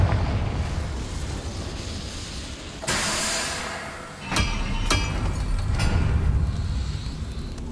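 Confringo fire spell cast in the Hogwarts Legacy video game, a sudden broad blast partway through followed by a few sharp cracks under a continuous roaring hiss, loud and close with no talking.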